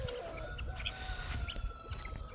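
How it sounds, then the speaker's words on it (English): Chickens and a rooster clucking and calling outdoors around a homestead, a mix of short squawks and murmuring clucks at moderate distance over faint background noise. "Juju, don't be looking at my rooster like that"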